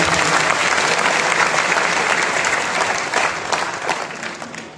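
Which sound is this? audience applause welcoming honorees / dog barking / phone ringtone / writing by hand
audience applause welcoming honorees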